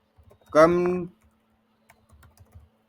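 A computer keyboard is typed on in a frontend development lesson, with soft scattered key taps around a short spoken word, close and quiet.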